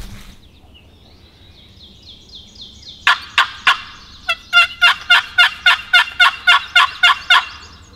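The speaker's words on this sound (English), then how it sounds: "We've got a bird gobbling." A wild turkey gobbles during a spring hunt in Pennsylvania, with a quiet stretch of faint birdsong followed by a loud, rapid rattling gobble run of over a dozen pulses, close and clear.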